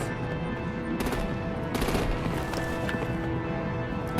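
Gunfire in the Batman: The Enemy Within game, a loud continuous burst of rapid automatic shots with heavier cracking blasts mixed in, filling the scene without pause.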